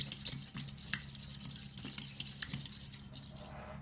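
Eggs with their shells being whisked in a bowl, a quick rhythmic scraping and tapping that runs steadily at close range, with no talk, before fading out at the end.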